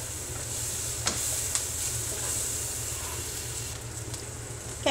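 Onions seasoned with pepper sizzle in a pan for a cowboy casserole, a steady close hiss of frying with a low hum beneath and a few soft clicks of stirring.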